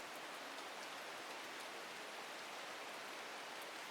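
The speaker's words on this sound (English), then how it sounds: "It's also great with the rain here." Steady video game rain hisses evenly throughout, a dense, unbroken wash of falling drops with no voices over it.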